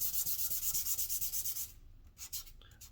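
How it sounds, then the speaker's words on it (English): Light hand sanding across the sealed wooden blade of a table tennis paddle, a quick run of close, rhythmic rubbing strokes that stops partway, followed by a few scattered softer scrapes. "So just lightly sand it over the sealed surface of the paddle."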